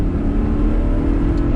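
Lotus Evora sports car engine pulling hard on a track, a steady dense roar held loud and close throughout with no break.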